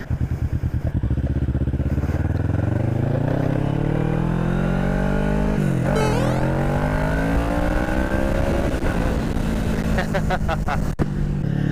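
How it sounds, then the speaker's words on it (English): A 650cc motorcycle revs hard and accelerates, its engine note climbing in pitch, dropping sharply at a gear shift, then climbing again, loud and close throughout. "I think I popped a little bit of a wheelie when I was trying to shift into second gear"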